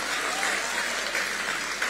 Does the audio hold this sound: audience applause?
yes